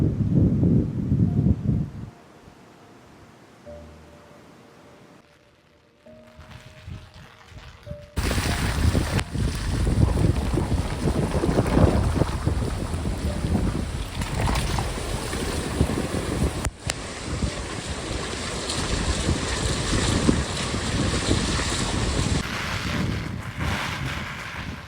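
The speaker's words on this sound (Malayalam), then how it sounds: "നല്ല കാറ്റുണ്ട്" Strong monsoon wind gusting beside the Kalindi river at Thirunelli in Wayanad, a loud steady roar buffeting the microphone with rushing water and heavy rain, after a quieter opening stretch.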